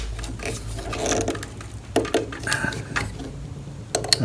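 Screws on a DEWALT wood planer's blade are snugged down with a hand tool, giving close, irregular metallic scrapes, clicks and rubbing bursts separated by short pauses.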